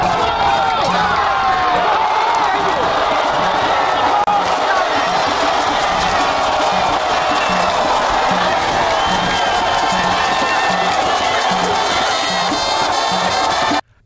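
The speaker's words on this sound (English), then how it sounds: "the place erupted with the crowd singing and cheering them on" A stadium crowd sings and cheers for Team Ghana at a football match, a loud, continuous roar of massed voices that holds for the whole stretch before cutting off abruptly.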